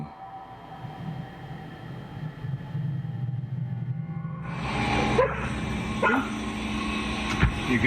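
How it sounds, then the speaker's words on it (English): A dog barks and whimpers intently at night, sharp yips and barks rising after a quieter stretch of low rumbling background noise, fairly near. "The footage begins as we see a dog barking intently"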